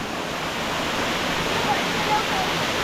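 A powerful waterfall in the Konkan region roars steadily close by, a dense unbroken rush of crashing water filling the whole clip.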